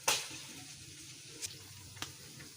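Kebabs shaped from a spiced mixture sizzle softly in a pan, a low steady fry with a few brief sharper crackles and a louder burst at the start.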